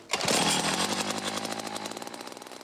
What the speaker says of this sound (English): I drilled a hole through 2 feet of ice while Doug Tabor fished nearby.